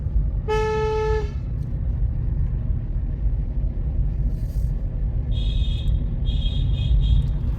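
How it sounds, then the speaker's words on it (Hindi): One clear car horn toot blares early over a low engine rumble at a bend on a hill road, then fainter, higher horn beeps sound later from farther off. "अब जैसे मोड़ है, फिर मैं हॉर्न बजाऊंगा।"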